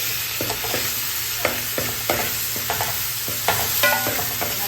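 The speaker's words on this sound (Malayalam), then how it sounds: "നല്ലപോലെ വഴണം" Crushed onion, green chili and garlic sauté in a pan for a chicken masala, with repeated scraping stirs over a constant sizzle, close and fairly loud, with faint music underneath.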